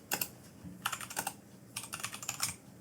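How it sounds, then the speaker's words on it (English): Someone types a template name on a computer keyboard while setting up a Brevo email. Soft, quick key clicks come in three short clusters, quiet and close, with no voices. "let's just type in the template name here"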